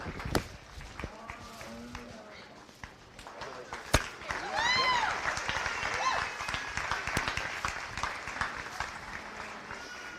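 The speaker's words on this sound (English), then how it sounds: "Let's go ahead and give all our seniors a nice round of applause." Crowd applause for the seniors at a county fair beef show, scattered clapping that swells into a fuller round midway, mixed with footsteps and voices talking over it in a livestock arena.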